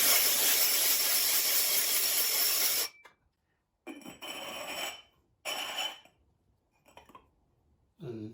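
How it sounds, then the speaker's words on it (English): Grinding the rough rim of a fired ceramic jar lid, a harsh hissing scrape that runs steadily for about three seconds, then comes back in several shorter, quieter bursts separated by silence. "And grind it a little bit."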